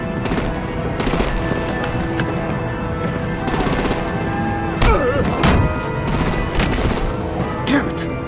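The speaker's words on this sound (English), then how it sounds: "Break out the artillery and disable their vehicles!" Heavy gunfire and booming artillery blasts in a Batman video game with vehicles under attack, loud rattling volleys and thuds recurring across the scene, mixed with game music and battle noise.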